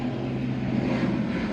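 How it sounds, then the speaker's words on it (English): Propeller airplane passing overhead outdoors near a beehive garden, a steady broadband engine drone filling the short stretch at moderate loudness with no other sounds over it. "I just let the plane go over"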